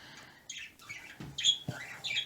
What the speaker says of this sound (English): Birds talking.